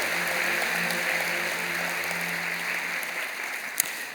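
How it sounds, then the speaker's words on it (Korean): A church congregation at Sunday worship applauds to welcome newcomers, a continuous wash of clapping that gradually thins toward the end, with one sharp knock near the close. "여러분 큰 박수로 환영하시지요"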